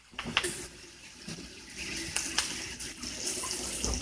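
Tap water runs steadily into a sink while hands are washed in a trailer park kitchen during raw-meat steak prep, a close, moderately loud splashing flow with brief clatters and no talking.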